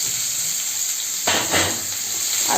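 Onion goes into hot oil already used for frying fish with nigella seeds, bursting into a sudden loud sizzle midway that crackles on steadily, close by with no talking.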